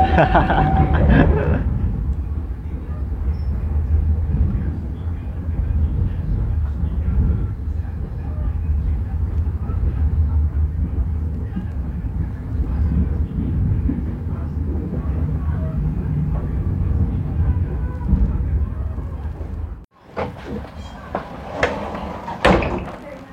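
Inside a Matarmaja economy train carriage arriving at Malang station, a low rumbling rolling drone fills most of the stretch with faint voices, then a sudden door clunk and clattering, busier noises near the end.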